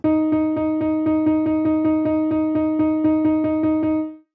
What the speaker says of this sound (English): write 5 16th notes and put a 5 over the beam.